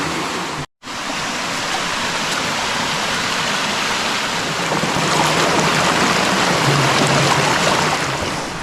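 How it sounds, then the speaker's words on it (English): A creek in the Ouachita National Forest rushes over rocks, making a loud, close, continuous wash of water that swells slightly toward the end, with no speech. "So I'm walking up the creek."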